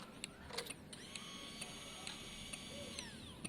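Fuel pump on a Honda CBR 600 F4i motorcycle priming as the key is turned on, a faint whirring electric hum with light ticking clicks, heard close in a quiet space.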